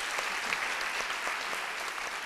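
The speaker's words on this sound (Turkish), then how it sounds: "Annelere bir alkış rica edeyim bu aşamada." Audience applause at a children's event on stage, showing a dense, steady patter of many hands clapping in a hall for a short burst.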